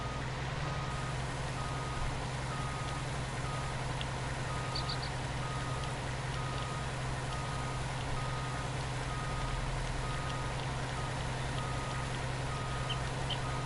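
A truck keeps rolling backward, its engine droning low and steady for a long stretch, with faint intermittent reversing beeps barely rising above the rumble and no voices.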